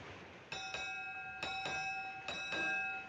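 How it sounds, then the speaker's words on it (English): A ship's bell strikes eight bells aboard a sailing vessel, clear bright rings in paired strokes, each ding sustaining with a long shimmering decay, fairly close and alone. "Make 8 bells. 8 bells it is, sir."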